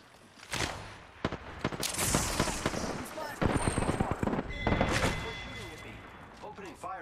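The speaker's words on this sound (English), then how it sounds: "Opening fire on the enemy." Rapid bursts of video game gunfire in a team shooter match, sharp cracks and volleys crowding one another across the whole stretch, with speech mixed in among the shots.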